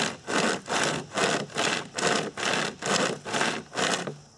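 Pocket chain hand saw cutting through wood in about nine even back-and-forth strokes, each a rasping burst with short pauses between, close and clear with no talk.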